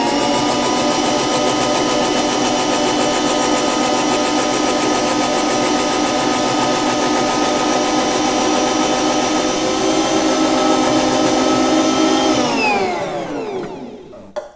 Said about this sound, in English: whatever your food processor is, whatever your slicer shredder is that you use